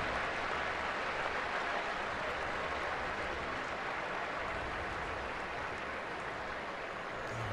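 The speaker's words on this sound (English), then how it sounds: "he gets a round of applause from the crowd here in Tucson" Crowd applause at a Washington at Arizona college football game in Tucson, a steady broad wash of clapping and cheering from the stands that stays loud and continuous throughout.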